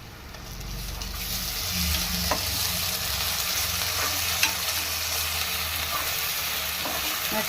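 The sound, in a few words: onions frying with ginger garlic paste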